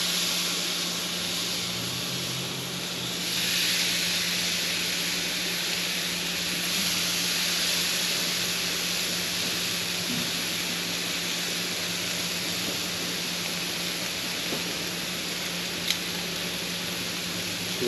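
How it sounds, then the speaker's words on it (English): Ribeye steaks searing on a very hot grill, a steady, even hiss and sizzle that holds at the same level throughout with no talking. "we're going to go ahead and put our steaks down and get a sear on them first"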